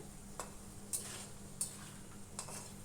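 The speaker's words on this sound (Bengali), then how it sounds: "আলু আর কুমড়োর সাথে একটু খানিক্ষণ তেলের মধ্যে নাড়াচাড়া করে নিয়ে" Potato and pumpkin stirred in hot oil make a faint, low sizzle with a few light scrapes and clinks of a spatula against the pan, spaced out at irregular intervals.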